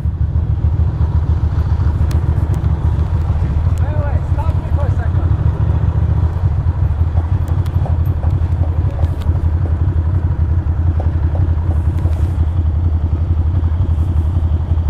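A Royal Enfield motorcycle engine runs steadily nearby with a low, continuous rumble and light mechanical clatter throughout, while people talk over it outdoors.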